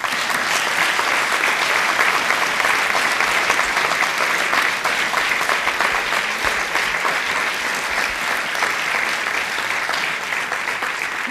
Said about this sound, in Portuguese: Mais uma vez, palmas.